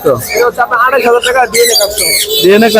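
Red lory parrot at a bird market, calling in short squawks amid other bird chatter, mostly under a man's close, continuous talk.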